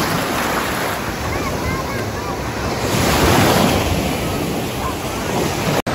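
Sea surf rolls and breaks steadily along a beach beside a mountain at a resort, with heavy wind rumble buffeting the microphone and a swell in the wash midway through.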